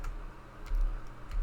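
Keys clatter on a computer keyboard as a command is typed in a terminal, a quick series of light, close clicks that come in brief bursts.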